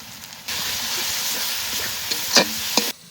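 Ground cumin and coriander paste hits hot oil in a pan while cooking village-style mutton curry, giving a loud steady sizzle for about two and a half seconds with a couple of sharp spatula scrapes near the end, then it cuts off.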